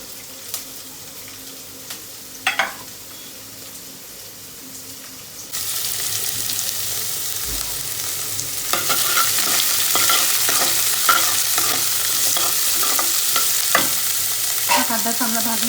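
Onion fries in oil with curry leaves for chana dal: quiet at first, then a loud, steady sizzle swells halfway through and continues with stirring scrapes and clinks, close by, with no speech.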